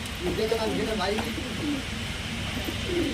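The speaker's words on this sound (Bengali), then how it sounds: "দেখতে পাচ্ছেন এখানে একটা চকলেট দমা পায়রা আছে" Low rolling coos from caged pigeons at the Garia pigeon market repeat through a busy background hum, with someone talking close by.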